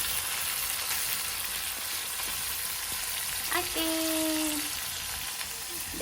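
Masala-coated fish pieces fry in hot oil with a steady, dense sizzle and crackle, close and fairly loud, while a brief tonal squeak rises partway through.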